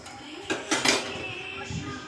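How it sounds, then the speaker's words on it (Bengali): A lid set onto a cooking pot left to simmer on low heat, giving a few quick metallic clanks and rattles close by, with a softer clink near the end. "এবারে ঢাকা দিয়ে দেবো"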